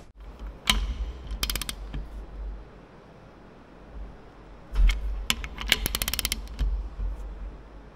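A ratchet wrench tightens the connecting rod bolts on a Ford 460 engine during a performance build, giving two clusters of quick, close clicking strokes separated by a quiet pause.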